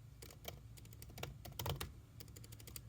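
Rapid, irregular keystrokes on a computer keyboard clatter up close with uneven pauses between bursts, and no one speaks.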